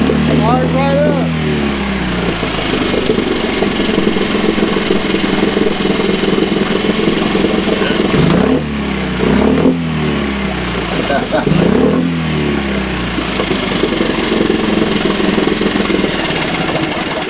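A small engine fresh from a carburetor cleaning runs steadily and loud, with a few revs and dips partway through and people talking over it.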